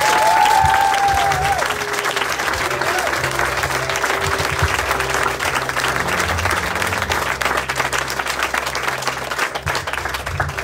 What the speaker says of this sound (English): Could you give a big clap offering to Jesus?